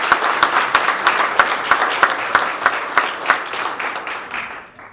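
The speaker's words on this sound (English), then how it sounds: "Ladies and gentlemen, give these folks a round of applause." An audience at a college athletics awards ceremony applauds honorees, a dense wash of handclapping with a few louder individual claps standing out, steady and then fading toward the end.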